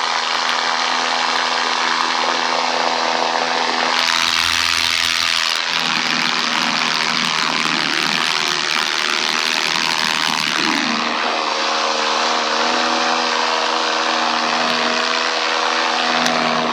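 A small propeller airplane engine drones loudly and steadily in flight, a constant close cabin roar with a brief change in tone partway through.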